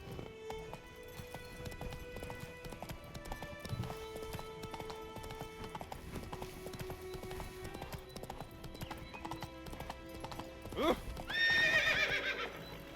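Roach, the horse in The Witcher III: Wild Hunt, gallops with rapid rhythmic hoofbeats that carry on steadily, ending in a loud whinny near the close, with game music beneath.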